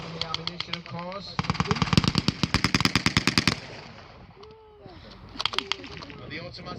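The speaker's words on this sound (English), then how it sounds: "the automatic fire there is coming from the Stern machine gun" A Sten machine gun fires rapid automatic bursts in a reenacted wartime frontline battle at Sedgefield, loud and close, with a long rattling burst in the middle, later shorter bursts and faint voices between.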